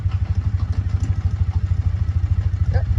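A 2016 Triumph Bonneville T100 with a sidecar chugs along in a low, steady engine rumble, loud and close, as it shifts into second gear.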